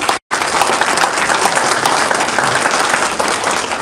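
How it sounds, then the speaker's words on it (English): Loud, dense audience applause at a Phi Theta Kappa induction ceremony for the faculty advisor, a full burst of clapping that starts after a split-second gap and stays strong and steady throughout. "Could you give him a round of applause, please?"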